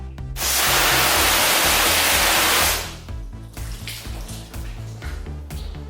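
Water spraying onto a car's waxed paint during a rinse, a loud, steady rushing hose spray for a few seconds that cuts off, leaving quieter dripping and running water.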